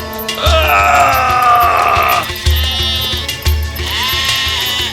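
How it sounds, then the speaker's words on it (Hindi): A sheep bleats loudly and repeatedly, long wavering cries close by, with dull thumps beneath. "उसे देखकर भेड़ भी उसके पीछे भागने लगी।"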